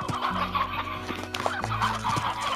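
Hens in the video game Slime Rancher cluck and chatter in short, overlapping bursts against a faint game background, with no talk over them.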